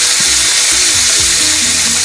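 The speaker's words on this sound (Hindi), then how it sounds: "जब मटर अच्छे से फ्राई हो रहे हैं" Green peas frying in a pan for green poha give off a steady, close hiss of sizzling oil, with a few low bumps and stirring knocks underneath and no talking.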